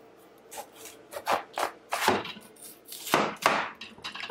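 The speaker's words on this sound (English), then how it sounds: "luckily it's not too hard to chop" A knife chops vegetables for a vegan home-cooked dish, with a quick, irregular series of close, crisp cuts and scraping strokes and no talking.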